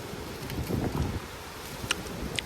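Strong wind gusts buffet the microphone at the seaside, a rough low rumbling roar with brief rustling bursts and a few faint clicks, no talk.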